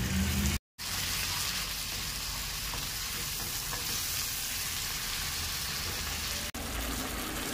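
Shrimp dropped into a hot frying pan with onions, setting off a loud, steady, close sizzle that holds for several seconds after a brief cut, with no talk.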